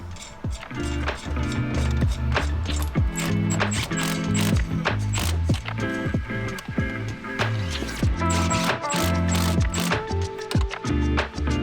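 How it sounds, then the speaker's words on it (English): A ratchet wrench clicks rapidly and repeatedly while nuts are removed during a Chase Bays dual piston brake booster delete install on a BMW E46, close and loud with brief pauses between bursts, no talking. "So you'll take your nuts off after you've got the studs out."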